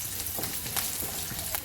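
Cashews frying in a pan of hot oil while cooking a broccoli gravy, giving a soft, steady sizzle with faint crackles and pops, quiet and close, with no talk.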